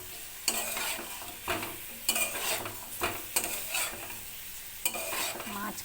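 Eggs frying with spices in a pan sizzle steadily while a spoon stirs and scrapes in repeated bursts, loud and close.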